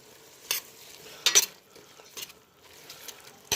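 A spoon stirs callaloo into boiling coconut milk in a pot, making a few sharp clinks and scrapes against the metal over a faint bubbling simmer.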